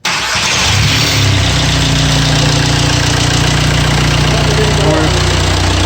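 A custom-tuned ALH diesel engine cranks and fires, catching within the first second, then settles into a loud, continuous, close-up clattering run that holds steady to the end.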